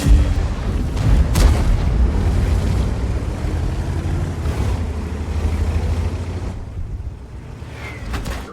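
Heavy booming cannon fire from a Soviet Object 705 heavy tank in a tank battle game, sharp blasts over a constant low engine rumble, with a couple of impacts near the start and end.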